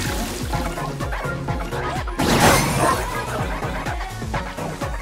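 A dog barks repeatedly in the PS5 video game Astro Bot, short yips and bow-wows over busy game music, with a crashing, shattering burst midway.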